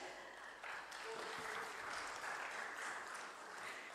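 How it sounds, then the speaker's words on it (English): Audience applause at the stock exchange listing ceremony of Fascinate Textiles Limited, a steady, fairly distant wash of clapping that continues evenly for several seconds in a large hall. "Ladies and gentlemen, a huge round of applause."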